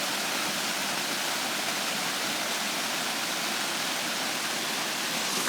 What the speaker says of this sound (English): it is literally pouring outside